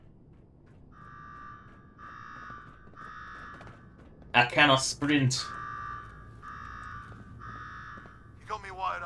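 Repeating electronic alarm tone in Fallout 4, sounding in regular pulses of about a second each, broken by a burst of speech midway and another voice near the end, with game background hum beneath.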